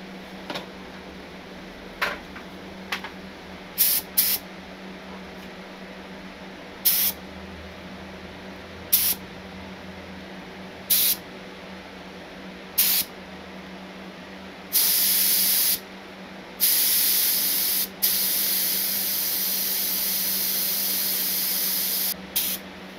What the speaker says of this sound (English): Look how wide this thing is spraying.